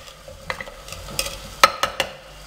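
Chicken pieces frying in a pan are stirred with a utensil, producing a low sizzle under repeated distinct clacks and scrapes against the pan in irregular rhythm, close and clear, with no voices.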